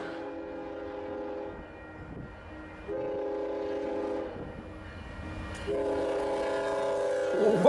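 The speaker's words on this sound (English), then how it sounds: "I love hearing that lonesome wail of the train whistle" A train horn sounds in three long sustained blasts with short pauses between them, the last one louder and closer, over a rumbling rail background.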